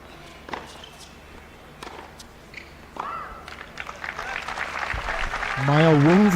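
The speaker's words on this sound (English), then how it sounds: "you can hear the claps" Crowd clapping at a WTA 125 tennis semi-final in Mumbai after a point, a scattered burst of applause that builds and grows louder toward the end, with some voices and a rising whistle-like tone on top.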